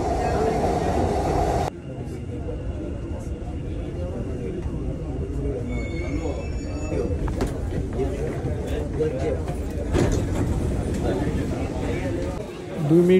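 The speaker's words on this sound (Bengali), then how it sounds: "এই এখন ট্রেনটা কিন্তু ছাড়ে চলে যাবে।" Dubai Metro train standing at a station, a steady low rumble and hum with a brief electronic tone, continuous throughout and fairly loud, with people talking over it.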